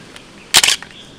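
Single crisp shutter release of a non-GPS digital camera photographing a QR code, a short sharp mechanical clack with a quick double click, close and isolated against a quiet room.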